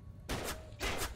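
Gunfire in Call of Duty 3 on PS3, two short bursts of shots about half a second apart, loud and close, with no talking.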